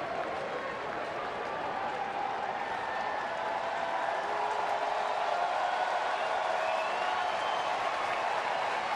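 A crowd of more than 37,000 at a Rockies at Tigers baseball game in Detroit roars steadily in a seventh-inning, one-run game, with a continuous wash of cheering and clapping. The broad, fairly even crowd noise runs the whole way through.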